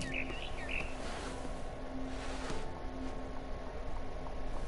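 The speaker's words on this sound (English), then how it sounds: "Then I heard chirping outside my window. It was a barn swallow going back to her nest." A barn swallow chirps outside a window in a video game, short bright calls near the start over a steady ambient room hum, fairly faint.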